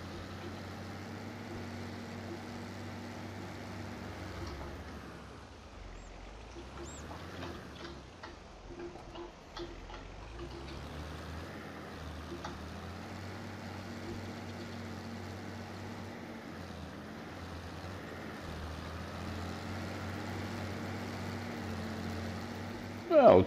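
A tractor in Farming Simulator 22 runs with a low, steady engine hum that dips and rises around the middle, under faint ticking sounds, quiet throughout.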